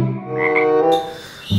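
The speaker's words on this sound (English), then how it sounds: "Frog." A battery-operated toy frog gives one loud, buzzing electronic croak lasting about a second, close and alone, ending with a short thump.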